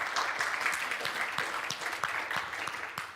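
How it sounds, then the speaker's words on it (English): A conference audience at ComCon claps for Saúl from the Jitsi project, a fairly soft, continuous patter of many hands with individual claps standing out, no talking on top. "Let's give a very big ComCon round of applause to Saúl from the Jitsi project."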